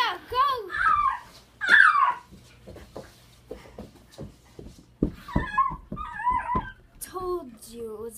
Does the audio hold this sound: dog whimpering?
yes